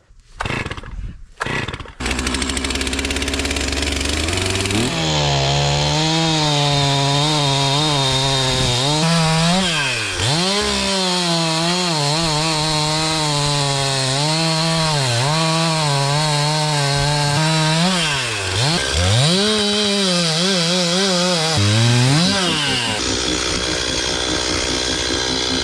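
A Stihl 391 chainsaw roars through tree trunks outdoors after a brief start-up sputter, its engine pitch rising and falling as it bogs into cuts and revs free, loud and continuous for the whole stretch.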